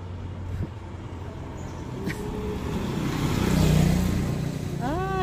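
A jeep rumbles along a street, a mid-level engine drone that builds slightly as it nears, with people talking nearby and music faintly in the background.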